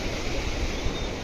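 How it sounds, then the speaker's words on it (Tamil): Water rushes along below a temple in Nainital, a dense, steady roar that fills the whole moment with no voices over it. "கீழே பாருங்கள் தண்ணி எப்படி போயிட்டுருக்குன்னு."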